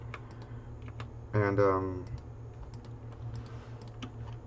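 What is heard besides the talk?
typing on a computer keyboard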